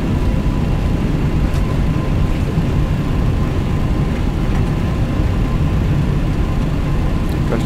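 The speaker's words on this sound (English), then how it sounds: "Reversers deployed." Deployed thrust reversers on an MD-11 airliner in a flight simulator roar steadily after landing, a loud, continuous low rumble with broadband noise and no voices.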